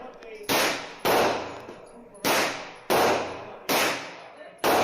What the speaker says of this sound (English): Watch how little recoil this gun has